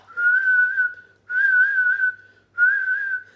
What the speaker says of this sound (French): mon mari siffle même